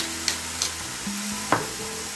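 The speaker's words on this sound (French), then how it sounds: "Je remue. Regardez, ça commence à cuire." Stuffed vegetables sizzle in a frying pan while a spoon stirs them, with a steady frying hiss and a few distinct scrapes and clinks of the utensil against the pan, close and moderately loud, no talking.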